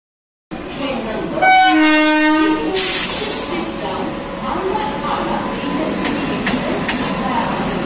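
Patna Jan Shatabdi express train sounding a loud horn with strong harmonic blasts as it passes close by, followed by continuous rumbling and clatter of the carriages rolling past.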